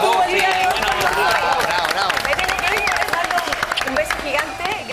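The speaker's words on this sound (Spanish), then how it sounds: "un aplauso para Kenita Larraín, que tuvo el día de hoy" Studio audience applause on a Chilean entertainment TV talk show, steady clapping mixed with crowd noise and a voice speaking over it throughout.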